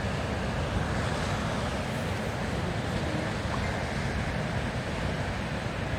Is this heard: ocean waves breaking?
yes